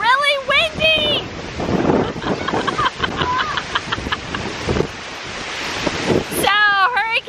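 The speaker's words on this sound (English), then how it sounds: "It's still really windy!" Strong wind buffets the microphone outdoors in Orlando the morning after Hurricane Irma, a loud, gusty roar that swells and dips, with voices briefly at the start and end.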